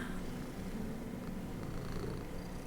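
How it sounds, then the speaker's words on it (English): A cat, an Abyssinian, purring close to the microphone in a steady, continuous low rumble that runs through the whole stretch with no talking over it. "The mic is picking up the purr."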